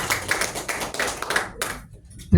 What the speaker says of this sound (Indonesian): Tepuk tangan dulu Universitas Wiranegara.